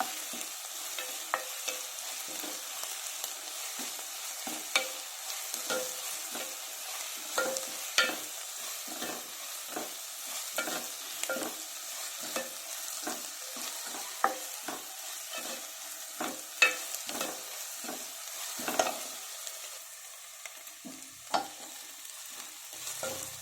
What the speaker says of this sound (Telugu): హాఫ్ స్పూన్ అల్లం వెల్లుల్లి పేస్ట్ బాగా ఫ్రై అవ్వాలి